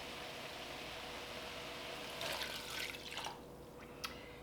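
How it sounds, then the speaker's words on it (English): Teriyaki sauce is poured into a pot of frozen vegetables, making a brief soft liquid splash and trickle over a steady background hiss, followed by a faint tap. "So now it's time to add our teriyaki."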